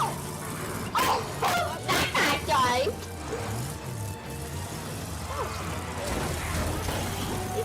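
A dog in Evil Dead The Game gives a quick series of barks and yips early on, followed by softer whines, all set against a steady game background with voices mixed in.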